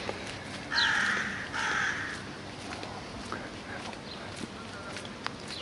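Large birds in a lush, well-kept hotel garden give two loud, harsh caws close together, followed by softer scattered calls and faint rustling in the background.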